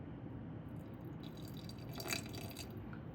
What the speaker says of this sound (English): We're gonna add just a little bit more water.